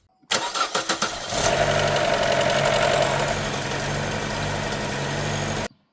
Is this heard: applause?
no